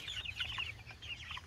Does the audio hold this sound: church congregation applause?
no